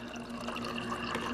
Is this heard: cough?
no